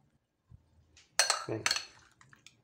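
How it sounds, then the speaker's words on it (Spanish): A spoon gently folds tropical salad in a bowl, giving a couple of scraping, clinking strokes against the dish, close and moderately loud, with quiet gaps between them. "Y ahora cogemos una cuchara y lo vamos envolviendo"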